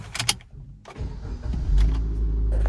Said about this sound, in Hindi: गाड़ी करते हैं ऑन।